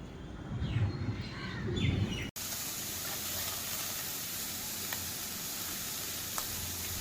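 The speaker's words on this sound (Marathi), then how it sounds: "रस्त्यावर बघू शकता तुम्ही किती शांतता आहे आणि पक्ष्यांचा नुसता आवाज आहे" Birds chirping on a quiet early-morning street: faint, scattered calls over a steady outdoor hiss, clearer in the first two seconds before a brief cut.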